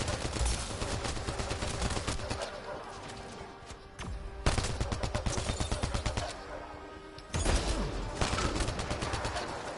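Bursts of rapid automatic gunfire in Mass Effect: Andromeda, several loud volleys separated by short gaps, with sharp individual shots crackling through the fighting.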